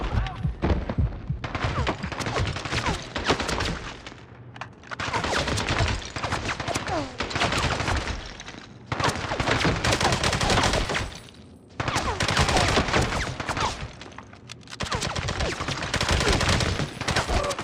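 Gunfire in the James Bond Bloodstone video game, loud rattling bursts of machine-gun fire in several long volleys separated by brief pauses.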